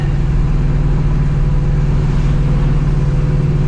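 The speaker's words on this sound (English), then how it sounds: "I hope you guys can hear that blower out here. It's loud." A supercharged New Edge Mustang GT runs on the road, its blower and engine giving a loud, steady low drone with a constant whine layered on top, with no talking.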